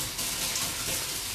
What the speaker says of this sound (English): What I am going to do now is I'm just going to rinse my hands